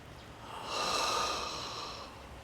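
A single deep, audible inhale through the nose during a guided meditation, swelling and fading over about two seconds, close and alone.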